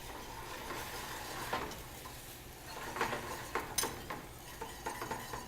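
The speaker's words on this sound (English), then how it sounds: "Teaspoon of kosher salt, and a teaspoon of sugar. And we'll whisk that together." Kosher salt and sugar are whisked together in a bowl, giving soft scratchy stirring with small clinks and taps that pick up toward the end, fairly close and steady with no talking.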